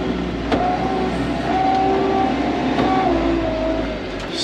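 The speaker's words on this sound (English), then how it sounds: "Put her into 4-wheel drive. We're going to put her into first gear." A tractor engine in four-wheel drive, first gear, rumbles steadily and close at a ranch borrow pit, with a low continuous drone and faint whining tones over a loud, even level.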